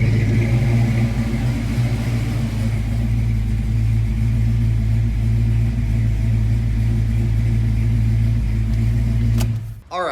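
A car engine fitted with a TrickFlow camshaft idles with a loud, steady low rumble close by, then is switched off abruptly near the end, leaving a short clunk and quiet.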